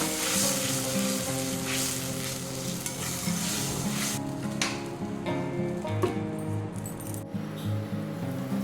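Spice paste for banana flower curry frying and being stirred in a pan, a steady loud sizzle with scraping and occasional clinks of the spoon throughout, no talking.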